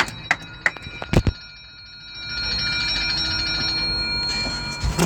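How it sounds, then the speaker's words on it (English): A phone alarm set for 7 a.m. starts with a few sharp clicks and taps, then rings as a steady, bright electronic tone in the background that holds to the end. "Oh, my phone's ringing. Oh wait,"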